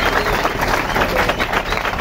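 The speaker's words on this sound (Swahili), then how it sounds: "tupigieni makofi mazuri" Audience applause at a church gathering welcoming new leaders, a dense, steady wash of many hands clapping that stays loud and even throughout with no break.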